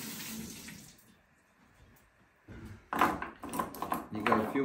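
Running tap water rinses freshly shucked oysters, a soft trickle at first, then louder gushing splashes in the second half as shells pass under the stream.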